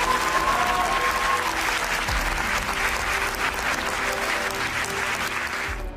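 Audience applause rises for Bhagat Singh during a Hindi speech, steady dense clapping from a large crowd that stays loud and sustained throughout without any talk.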